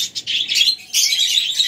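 Chirping from pet lovebirds in a freshly arranged cage setup: quick, shrill tweets in two busy bursts separated by a brief lull, close to the listener and unaccompanied by voices.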